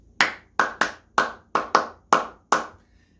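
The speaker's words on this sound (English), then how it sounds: "Clap it with me and let's say it like this" Eight crisp hand claps in a rhythmic pattern, loud and close, with uneven spacing and a short pause before the last clap.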